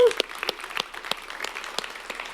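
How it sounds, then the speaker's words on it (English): Audience at a KCD community tech conference gives a short round of applause for the organizing team, scattered individual claps rising sharply over a steady crowd patter. "we should start by giving the organizing team a big round of applause"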